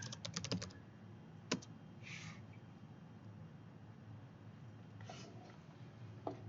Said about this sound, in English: I can type Aurora shooting